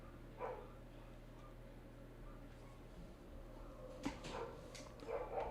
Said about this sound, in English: what's going on with that dog out there?